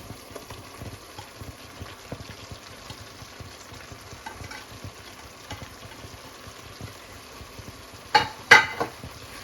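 Sautéed bitter gourd is stirred in hot oil for a pickle, a soft continuous sizzle with light scraping, then a couple of louder spoon clatters near the end; no one speaks.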